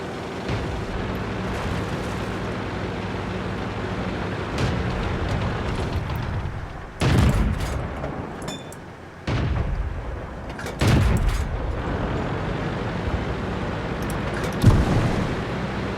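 Heavy booming shots and explosions from artillery in the video game World of Tanks, several deep blasts landing at intervals over a steady engine rumble, with no talking.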